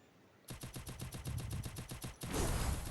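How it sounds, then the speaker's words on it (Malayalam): Gunfire in the video game Free Fire MAX: a rapid automatic burst of a dozen or more evenly spaced shots, then a louder, sustained blast of noise at the end, with no talking. "ഞാൻ അറിയാണ്ട് വെടി വെച്ചു"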